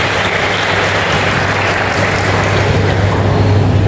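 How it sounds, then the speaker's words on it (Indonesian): Dense, steady applause from a large audience at a Muri-record ceremony for selling 1,000 houses, a continuous roar of many hands with a low hum beneath, loud and unbroken throughout. "Boleh tepuk tangan buat Pak Tatang"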